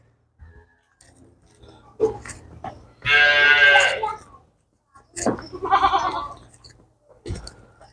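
A cow lets out two drawn-out, strained calls a couple of seconds apart, with short sounds and quiet gaps around them.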